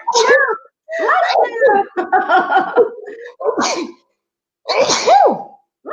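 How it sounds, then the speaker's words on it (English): A series of sneezes, about five explosive bursts in quick succession with short gaps, loud and close, each with a sharp voiced peak. "I'm going to sneeze."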